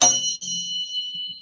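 A 174 Hz tone resembling a Tibetan bell rings out alone, a bright sustained ringing with a brief dip near the start, then holding steady as it slowly fades.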